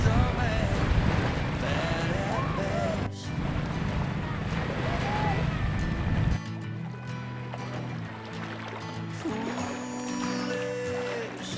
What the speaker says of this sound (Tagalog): Ito, may bangka rito. Yung bangka na yan, sa pangingisda yun